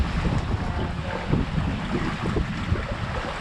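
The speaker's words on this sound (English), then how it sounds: "probably a little windy" Steady, blustery wind at sea on a sailing boat around 6 a.m. buffets the microphone with a continuous roar and gusty low rumble, no voices.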